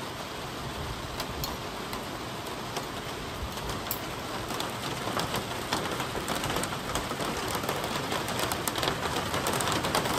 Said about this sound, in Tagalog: Sakto na ulan pa talaga.